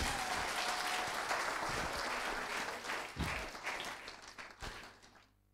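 Congregation at a church wedding blessing applauding, a loud dense wash of clapping that thins into scattered claps and stops near the end.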